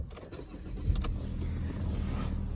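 A Ford Ranger 3.2 TDCi Wildtrak 4x4 double-cab diesel pickup starting on the key, with a short crank catching into a steady, close idle rumble that holds to the end.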